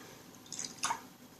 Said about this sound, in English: I'm just going to rinse the brush a little bit, dry it off, and add a spot more water.